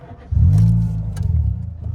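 A Renault Clio with 143,000 miles and an engine warning light cranks and fires up, a quick starter whir giving way to a loud, close engine that settles into a steady, pulsing idle.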